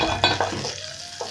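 Onions dropped into hot cooking oil in a pan for fried cabbage, giving a short close sizzle with a few stirring clatters and no talk.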